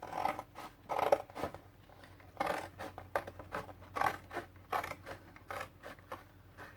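Scissors cut through a flattened cardboard cereal box in a steady series of crisp snips and rustles, close and fairly quiet, with no talking.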